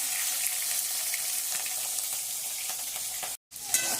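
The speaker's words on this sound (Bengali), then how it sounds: "মাছ ভাজা এখনও চলছে" Fish fries in a wok, a dense, loud, continuous sizzle filling the space, broken by a sudden brief cut-out near the end before the sizzling resumes.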